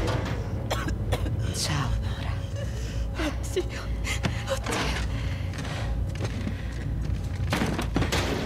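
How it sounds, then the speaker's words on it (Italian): A character coughs in The Last of Us Part II, a few short, muffled coughs and gasps scattered over continuous game ambience, fairly quiet and mixed with thumps and faint background sounds. "La sentite tossire?"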